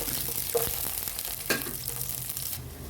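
Cashews and raisins sizzle and crackle steadily in a hot pan, with a couple of soft clinks from a utensil.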